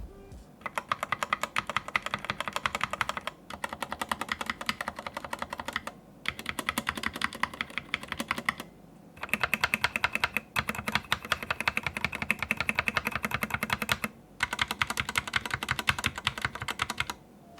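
Rapid typing on a stock, out-of-the-box Fantech Maxfit61 mechanical keyboard, a steady stream of close, crisp key clacks in bursts separated by brief pauses.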